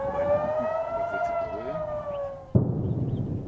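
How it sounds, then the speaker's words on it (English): A wailing air raid siren in northern Israel warning of rockets sounds at a distance, its steady tone slowly falling, then cut off abruptly by a burst of outdoor noise. "In northern Israel, sirens warned of rockets"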